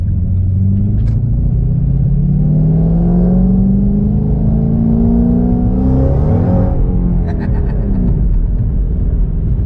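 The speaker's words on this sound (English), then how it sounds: "it sounds so good with the GT500 mufflers" Ford Mustang GT500 engine revving through GT500 mufflers on a cold day, a loud, close, deep rumble that climbs steadily in pitch, drops away, then rises again over nearly ten seconds.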